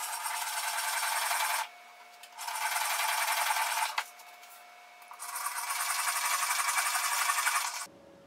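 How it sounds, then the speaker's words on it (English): A power drill whines steadily through wood in three long bursts while making a violin, pausing between each, with a short clunk as it stops. "now it's time to drill the holes"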